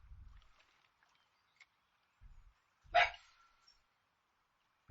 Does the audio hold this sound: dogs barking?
yes